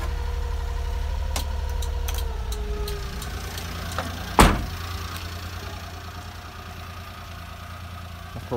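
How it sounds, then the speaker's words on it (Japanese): A Honda Acty Attack kei truck with a four-speed manual gearbox idles steadily close by, its low engine drone continuous, with a sharp clunk partway through as the engine catches and then settles into an even idle. "ではエンジン始動します。"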